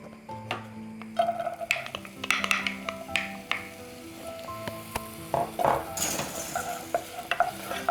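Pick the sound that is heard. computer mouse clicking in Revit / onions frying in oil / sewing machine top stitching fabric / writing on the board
onions frying in oil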